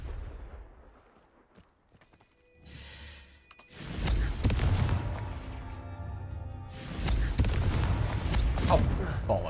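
Confringo explosion spell cast in Hogwarts Legacy, a sharp burst followed by loud rumbling blasts and crackling that continue for several seconds, close and heavy.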